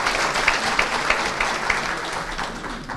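A hall audience at a Yörük Türkmen workshop in Antalya claps to welcome a university rector to the podium, a steady wash of applause with a few sharper claps standing out.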